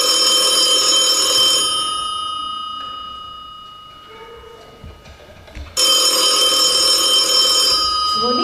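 A telephone rings loudly during a children's stage show, a bright sustained ring that fades away, leaves a quiet gap with faint sounds, then returns at full strength.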